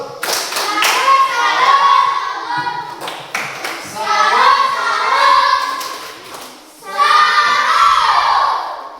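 Children in an Indonesian classroom perform a rhythmic salute clap, loud and close, in three bursts of patterned clapping mixed with shouting and chanting voices.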